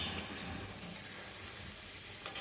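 Cauliflower cooks over lowered gas in spiced oil in a pan, giving a steady soft sizzle and hiss with a few small pops, fairly quiet and without talk.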